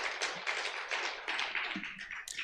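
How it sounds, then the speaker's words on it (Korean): A church congregation claps in welcome during a Sunday service, a dense, steady patter of many hands at moderate distance, fairly soft and continuous without voices over it. "환영의 박수를 드리도록 하겠습니다."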